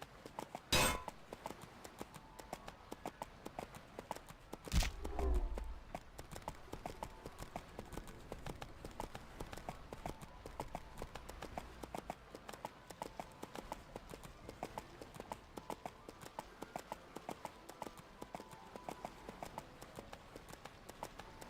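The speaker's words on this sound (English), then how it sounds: "I like this horse." Horse mount galloping in the video game EverQuest II, a steady clip-clop of hooves running on and on under a faint game backdrop, with one louder thump partway through.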